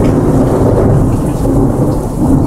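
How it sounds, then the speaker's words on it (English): A rainstorm brings steady loud rain mixed with deep rolling thunder, a continuous heavy rumble that swells and fades slightly across the moment, heard alone without talk. "I think the rain is starting to come back."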